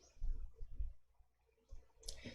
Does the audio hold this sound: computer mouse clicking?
yes